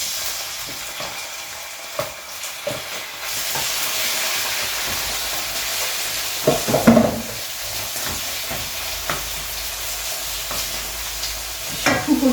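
Pork fillet trimmings sear in hot olive oil in a pan, a loud, hissing fry with bursts of crackling and spitting as the pieces hit the fat and catch.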